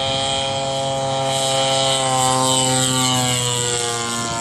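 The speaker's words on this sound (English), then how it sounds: "Say Cessna might be coming for landing." A Cessna propeller airplane coming in to land, its engine drone loud and steady with a strong harmonic hum that shifts slightly in pitch as it passes nearby.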